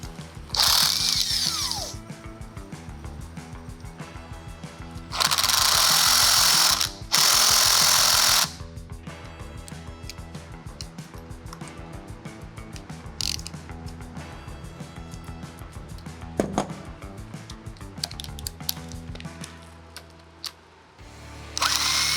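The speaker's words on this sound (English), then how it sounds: "Now we're going to use the 8mm socket to remove the brake assembly." A ratchet with an 8mm socket works on a motorcycle brake assembly during a Yamaha TT250 build, giving repeated clicking ratchet bursts and brief louder whirring spells, close and without talk.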